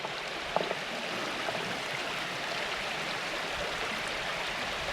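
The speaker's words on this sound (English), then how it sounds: "I guess that's river, huh? Oh, weird river noise." A river flows steadily through an outdoor woodland setting, a constant broadband rush of water at moderate level with no voices, apart from one brief faint tap near the start.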